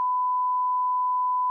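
A steady, pure electronic censor bleep at a single pitch, sustained unbroken for about a second and a half over spoken spoilers about the 2004 film Collateral, with no other sound audible.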